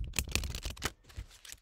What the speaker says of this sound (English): I do a more traditional shuffle to meld the cards together